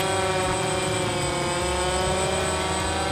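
A tiny UDI 839 quadcopter drone flies with its four propellers spinning, giving a loud, continuous buzzing whine that holds steady from start to finish.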